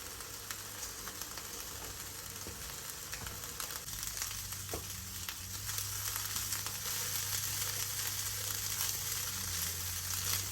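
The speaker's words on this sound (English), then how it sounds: "I'm going to cook these ham dices till they're well caramelized" Diced ham frying in a pan until caramelized, a steady, close sizzle that grows slightly louder midway, with occasional faint pops and no talking.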